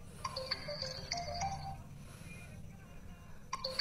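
Fastrack smartwatch ringing with an incoming call, a repeating electronic ringtone melody that plays clearly for a few seconds over low background noise.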